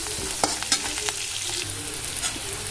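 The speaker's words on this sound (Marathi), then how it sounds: "आता आपल्याला हलकासा कलर बदलेपर्यंत कांदा भाजून घ्यायचा आहे." Onion frying in oil, a constant crackling sizzle with a few sharp pops and stirring scrapes, close and fairly loud, no voices.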